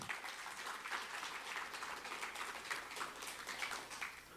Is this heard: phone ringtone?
no